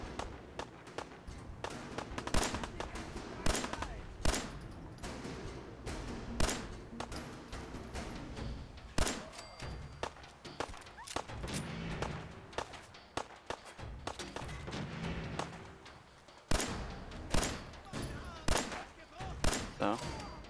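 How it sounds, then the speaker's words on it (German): Gunfire rattles through a Fallout 4 firefight with raiders: scattered single shots and quick bursts, some close and loud, others more distant, mixed with running footsteps and occasional speech. "Schießen die."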